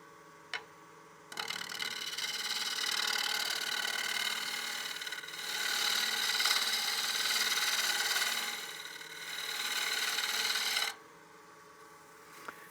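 A woodturning lathe cutting across the rim face of a partially seasoned wooden bowl, a sustained close scraping hiss of the tool on spinning wood that swells and eases in passes, starting and stopping abruptly, with no talking.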